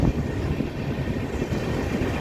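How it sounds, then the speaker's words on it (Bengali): Kaziranga Express train running toward Farakka Barrage, a steady, close rumble of wheels and carriage noise with faint rhythmic clatter, continuous and without voices. "ট্রেন এখন পৌঁছচ্ছে ফারাক্কা ব্যারেজ।"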